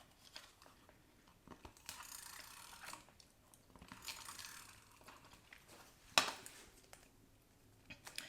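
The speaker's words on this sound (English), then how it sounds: "we're going to put 2 strips of tape with our tape runner." A tape runner lays two strips of tape onto paper on a silicone mat at a craft table, giving quiet rasping and clicking bursts with a sharper snap near the end.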